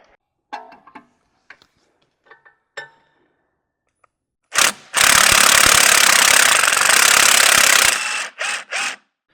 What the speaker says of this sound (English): Now we're going to use an electric impact to pull that all the way out.